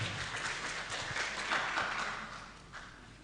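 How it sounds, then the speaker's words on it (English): A public discourse audience claps to welcome a young speaker to the stage, a soft, steady wash of applause heard from a distance and fading slightly at the end. "Ladies and gentlemen, please welcome her with our claps."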